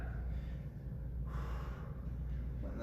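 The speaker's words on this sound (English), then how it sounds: "Catching your breath." Heavy, close breathing while recovering after an upper-body push workout, a continuous rough rush of air with no voices.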